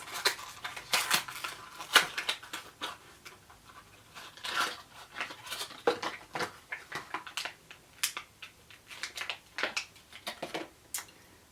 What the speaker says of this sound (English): I'm just going to have to tear into this.